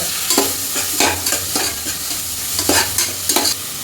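Sautéing in a pan while cooking green kadai chicken and quail: a loud, steady sizzle broken by rhythmic scraping and stirring strokes, close up and with no voices.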